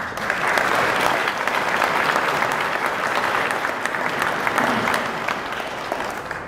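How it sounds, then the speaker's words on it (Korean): A large audience at a book launch in a Seoul civic hall breaks into loud, continuous applause, many hands clapping evenly for several seconds with a faint crowd murmur beneath. "축하드리면서 박수 한번 크게 한번"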